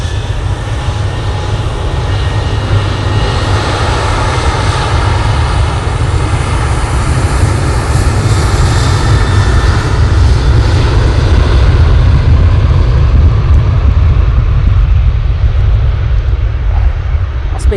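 A TUI airliner spools up its engines for takeoff, a loud, steady broadband jet roar with a deep rumble that holds constant and builds slightly throughout.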